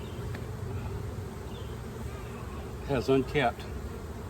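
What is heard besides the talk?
honeybees buzzing during a hive inspection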